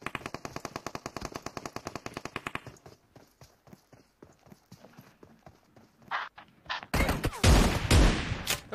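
Rapid bursts of automatic gunfire in a video game crack out as a fast, close, even rattle, then break into scattered single shots and end with loud, harsh blasts.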